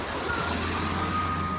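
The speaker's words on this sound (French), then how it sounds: "Excusez-moi pour le bruit parce qu'il y a plein de voitures," Busy street traffic heard during an outdoor bike outing: a steady wash of engine and road noise with a faint, repeating reversing beep from a truck running underneath.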